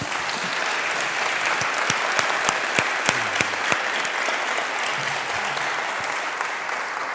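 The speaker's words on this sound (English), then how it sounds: "Please give them a round of applause." An audience at a mayoral debate at Emory University applauds the candidates with steady, dense clapping throughout and a few sharper claps near the front.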